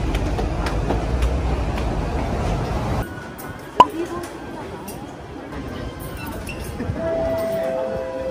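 Steady rumble of a Hong Kong MRT metro train in motion, loud at first then quieter after a shift, with a sharp clack and people chatting nearby.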